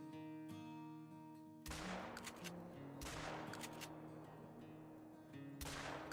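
Buckshot fire in a hunting video game, several loud blasts with long decaying tails spaced a second or two apart over a steady low in-game hum, close and sharp.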